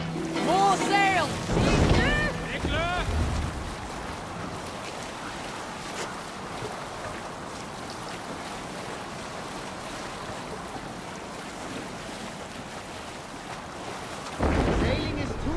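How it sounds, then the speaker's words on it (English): Wind and rolling sea wash steadily around a sailing ship in Assassin's Creed Valhalla, with a constant low rush of water and air, while voices and some music-like tones rise briefly near the start. "Shall we raise the sail, Eivor?"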